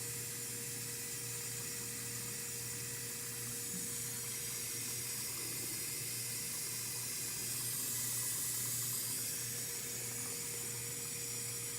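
A Whirlpool dishwasher fills with water, producing a steady, even hiss and rush with a low hum underneath, continuous throughout and slightly louder toward the end.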